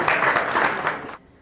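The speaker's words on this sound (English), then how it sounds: "give her a round of applause" An audience at a wrestling finale show in Calgary bursts into thick, even applause that holds strong, then cuts off abruptly near the end, leaving quiet.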